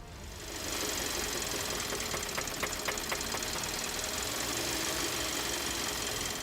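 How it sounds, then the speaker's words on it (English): A steady running engine with a rhythmic, deep knocking tapping through it, loud and close, continuing without pause. "engines developed rod knock, that loud, deep knocking sound"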